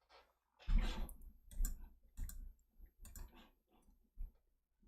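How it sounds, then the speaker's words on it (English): Someone types on a loud backlit computer keyboard, producing bursts of sharp, clacky keystrokes in uneven clusters with short pauses, close and fairly quiet overall. "I don't care that it's loud. It sounds cool."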